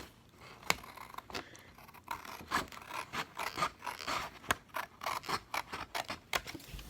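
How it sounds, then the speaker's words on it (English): Scissors make a rapid series of crisp snips while trimming the white border from a Swisher Sweets cigar wrapper. The cuts are close and fairly quiet, with no talk. "I'm going to cut off this white border on this end"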